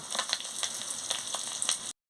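Fish roe sizzles steadily in a hot pan, close by, with a dense crackle and small pops throughout.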